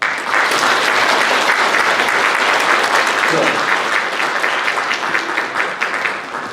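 A church congregation applauds steadily after an appointment certificate is read during a Korean service, loud dense clapping sustained throughout and easing slightly at the end.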